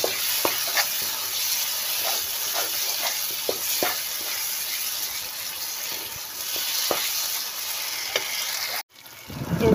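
Spice paste with chopped tomato and salt fried in oil, a continuous sizzle with scattered stirring scrapes and clinks, and a brief clatter near the end.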